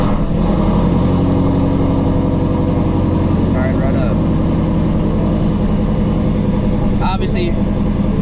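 A supercharged Shelby GT350 engine idles with a steady loud low rumble throughout, while a person talks over it.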